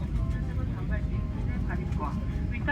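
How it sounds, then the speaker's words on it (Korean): A passenger airliner taxis toward takeoff on a flight to Saipan, its engines giving a continuous loud low rumble and whine heard from inside the cabin, with voices talking over it. "지금 비행기가 움직이고 있어요. 이제 이륙합니다."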